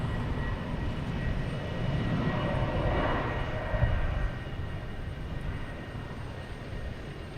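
An Embraer E-175 jet at Boston Logan Airport, a broad steady engine roar at moderate distance, swelling slightly midway then easing off.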